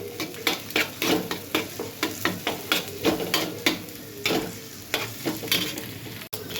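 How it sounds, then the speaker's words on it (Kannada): An egg with chili frying in a pan over a high gas flame, a continuous sizzle broken by regular rhythmic scraping and tapping strokes of a spatula, close and clear with no talking. "ಖಾರ ಹಾಕಿದ್ದು ಎಗ್ ಒಡೆದು ಹಾಕ್ಬಿಡ್ತೀನಿ."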